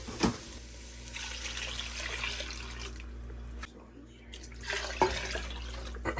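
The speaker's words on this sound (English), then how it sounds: "I'm going to put about 2 more cups of water" Water pours steadily into a large soup pot of vegetable broth with turkey bacon, a continuous rushing splash that runs on, dips briefly, then resumes, with faint kitchen clatter around it.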